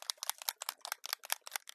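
A bottle of ink shaken hard in quick bursts, about a dozen rapid rattling sloshes in a steady rhythm, close and crisp with no talking.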